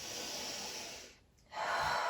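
Steady breath from a yoga instructor holding a seated leg stretch, a soft continuous airy rush that dips quiet for a moment near the middle before resuming, close and intimate with no talking.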